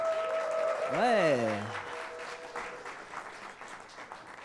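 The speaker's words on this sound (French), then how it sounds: "Est-ce qu'on peut entendre vos petits applaudissements ici en salle?" Scattered clapping from a small audience, with a single voice speaking briefly at the start.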